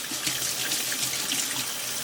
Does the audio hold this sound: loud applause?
no